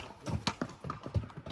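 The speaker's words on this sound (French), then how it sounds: "Ils sont magnifiques les chevaux." Horses walk along a mountain trail on Corsica's GR20, their hooves clip-clopping in an uneven series of close, distinct steps with no talk over them.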